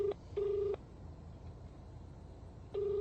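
A call rings out to a hospital ward war room, repeated electronic tone bursts sounding clearly with pauses between them, and no talking.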